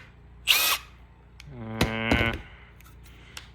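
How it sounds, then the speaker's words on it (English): A Milwaukee M12 cordless pruner cuts 1/2 inch PEX pipe: a short motor whir, a pause, then a longer rising motor whine under load with a clack as the blade closes. "what it's like cutting pecs with it"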